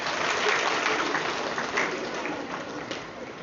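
An audience at a seminar event claps hands together to imitate heavy rain, producing a dense, continuous patter of many clapping hands that stays loud and steady throughout.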